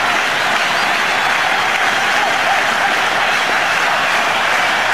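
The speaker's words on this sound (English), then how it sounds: "A big cheer here." A large crowd at a cricket stadium cheers and applauds loudly and steadily during a one-day international final between India and Australia in Sharjah, a dense wall of sound with no break.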